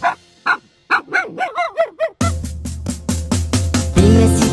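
A dog barks repeatedly in a children's animal song: first a string of separate yips and whining barks alone, then quicker barks continue over bouncy music with a steady beat.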